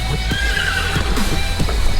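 A white horse whinnies and snorts in panic on a snowy night, with hoof clip-clops and restless movement close by, the whinny rising over steady background noise.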